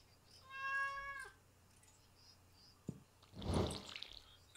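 A cat meows in the Stardew Valley farming game, one clear drawn-out cartoonish meow near the start, followed later by a splashy watering-can sound; no talking.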